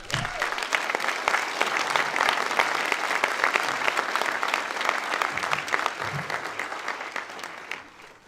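Audience applause at the 2013 IAIA graduation ceremony welcoming poet Joy Harjo: dense, steady clapping from a large crowd fills the hall, holding strong throughout before easing slightly at the end.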